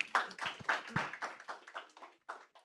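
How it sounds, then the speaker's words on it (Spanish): Scattered clapping from a small audience at a tech competition event, a few distinct, fairly faint claps in an uneven rhythm that thin out and stop. "Un aplauso para ellos también"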